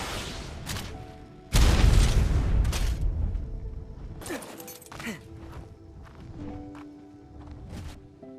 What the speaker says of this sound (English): I definitely think it's worth wasting one rocket just to see what they got.